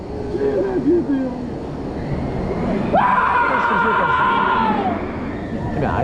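Riders on a roller coaster at Parc Astérix let out a sustained, high scream lasting about two seconds over heavy rushing wind and ride rumble, after a shorter wavering cry near the start.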